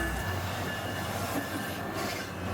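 A train rolling through the downtown Orlando, Florida station, a steady near rumble with faint wheel squeal, continuous and loud throughout, no talking.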